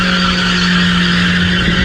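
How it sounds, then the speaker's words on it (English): A cheap, worn BMW Z3 sits in place doing a tire burnout, giving a loud, steady, unbroken roar of engine and spinning tires that holds at the same level throughout. "Let's see if it'll sit here and do a burnout."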